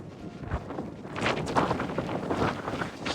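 Gusty wind at Dumbarton Castle buffets the microphone in a steady outdoor roar, rising and falling with broad rumbling surges and no voices.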